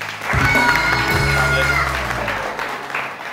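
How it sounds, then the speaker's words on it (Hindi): A morning TV show studio audience claps for a guest, a short burst of applause under low music and a voice. "अली के लिए बहुत सारी तालियां जी"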